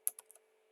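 Four quick keystrokes on a computer keyboard, light clicks spaced closely then trailing off into quiet, faint and near.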